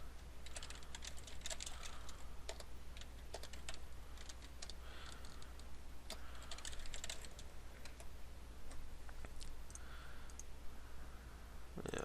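Rapid, continuous typing on a computer keyboard during an online Magic: The Gathering match, with close, dense clatters and clicks running steadily throughout with only brief pauses and no talking.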